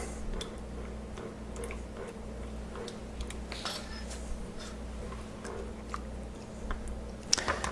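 Yeast being stirred in a bowl of liquid for bread dough, soft irregular clicks and ticks of a utensil against the bowl over a low steady hum, quiet and close.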